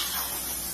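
A brief, steady jet of hissing steam from a steam wash spray machine during dry car interior cleaning, loud and close with no break.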